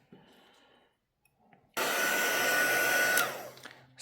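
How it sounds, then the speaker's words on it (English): A heat embossing tool switches on abruptly and blows a loud, steady roar of hot air for about two seconds, then winds down, after a quiet stretch of faint handling noises. "I'm going to turn on my heat tool so it's going to get loud"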